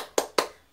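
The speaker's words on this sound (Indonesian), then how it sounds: "Baik, tepuk semangat." Two sharp, evenly spaced claps ring out close by in an elementary-school classroom, a brief rhythmic spirit clap with nothing else around it.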